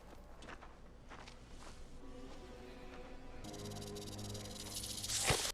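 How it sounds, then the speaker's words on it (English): A snake hisses in a scene from the TV series The Rings of Power: a steady, loud, airy hiss starts partway through and continues to the end over low ambient background sound. "Oh, I was like, it sounds like a snake."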